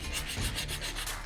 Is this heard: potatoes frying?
no